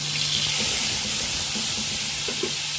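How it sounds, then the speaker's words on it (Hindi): Ginger garlic paste sizzles in a pan of fried onions as a dense, steady hiss that fills the short moment evenly, close by, with faint bubbling underneath and no voices. "तो अदरक लहसुन का पेस्ट डाल देंगे।"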